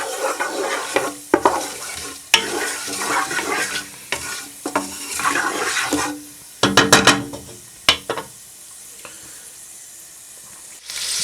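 Cinnamon sticks and bay leaves fry in oil in a pan for dhaba-style rajma masala, a close sizzle broken by repeated scraping strokes of a spoon stirring against the pan, then quieter simmering.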